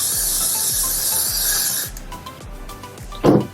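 An aerosol hisses steadily into a candle lid for almost two seconds while making wig glue, then cuts off, followed by faint rubbing and a short clatter near the end.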